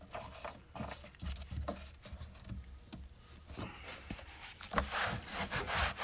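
A rag wiping down the engine oil filler area of a Nissan Altima, heard as close, uneven rubbing and scrubbing strokes of varying loudness, with no one speaking.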